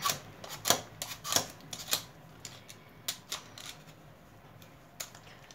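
Scraping strokes of a peeler across a Halloween pumpkin rind, a series of short, sharp rasps coming in uneven bursts, close and moderately loud with quieter gaps between.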